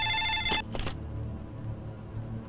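A telephone bell rings in a Bengali movie scene, one short electronic ring burst followed by a couple of quick echoing pulses, then fading into quiet room tone.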